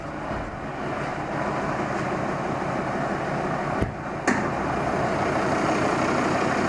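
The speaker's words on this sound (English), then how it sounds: "so that you can see the engine in action when it's on." A 2012 Volvo XC90 engine idles steadily with the hood open, a constant low rumble and hum with two brief clicks or knocks partway through.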